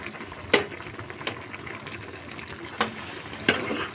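Sugar and jaggery being stirred in a pan while cooking tomato jam, with a soft simmering bubble under a few sharp scraping clinks of a spoon against the pan, quiet and close.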